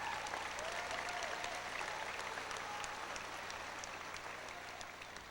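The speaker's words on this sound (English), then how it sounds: "you may applaud them" Applause at a high school graduation ceremony, a steady wash of clapping from a large audience heard at a distance, fairly faint and even throughout the few seconds.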